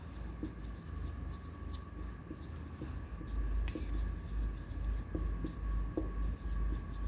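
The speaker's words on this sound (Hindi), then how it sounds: "एग्लूटिनेशन लिख दे रहा हूं" A marker or chalk writes the word agglutination on a board in a classroom, producing soft continuous scratchy strokes with small taps over a steady low background hum.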